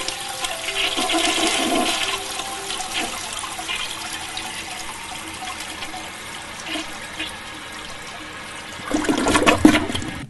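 A toilet flushes nearby with a steady rush of water, then a louder surge of gushing and refilling water near the end.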